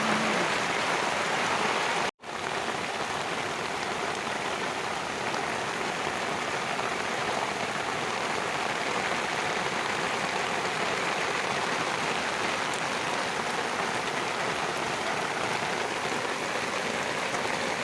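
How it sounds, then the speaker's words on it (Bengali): Heavy rain pours down steadily in a dense, even hiss, broken by a brief dropout near the start and continuing unchanged after. "বাইরেতে এত বৃষ্টি হচ্ছে"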